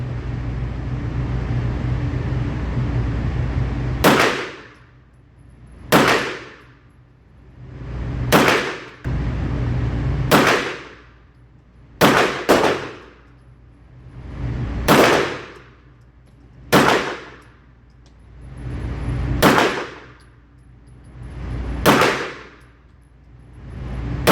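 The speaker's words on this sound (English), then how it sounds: "Now we're shooting the Bul Armory in the bottom left." A Bul Armory SAS II pistol fires about ten sharp shots, each with a ringing clang from steel targets. The shots come at a fairly even pace against a steady background hum, and nobody speaks.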